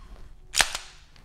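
A dry-fire trigger press on a pistol fitted with a Mantis X10 training device: one sharp, close click with a faint second snap just after, in an otherwise quiet room.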